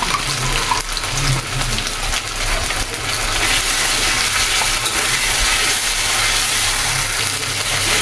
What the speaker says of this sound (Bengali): মশলাটা ভাজা হয়ে গিয়েছে